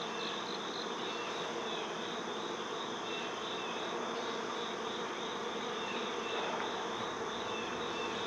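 Honeybees in a hive during an oxalic acid mite treatment, a dense, continuous buzzing drone heard close and steady throughout, with no voices.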